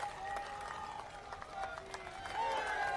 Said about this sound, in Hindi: पूरी तरह अपने स्थान पर कारीलाल जी के ताली बजाइए